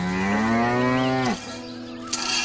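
A cow gives one long, loud moo that holds steady for over a second and then drops off sharply, followed by quieter background sound.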